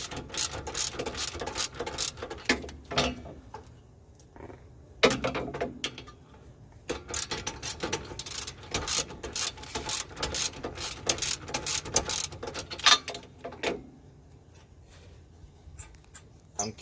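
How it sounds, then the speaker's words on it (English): A ratchet works loose a rusted bolt on a car, giving rapid clicking pawl bursts in repeated strokes with short pauses, close and fairly quiet, tapering to a few isolated clicks at the end. "I'm just loosening this bolt up."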